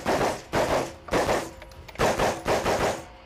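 Rapid gunfire at a shooting ranch during three-gun competition shooting with pistol, rifle and shotgun: six sharp, loud shots about half a second apart, each with a short echoing tail.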